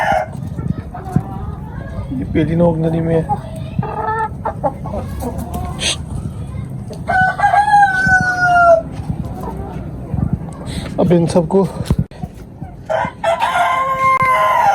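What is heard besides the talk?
Ayam Cemani rooster crowing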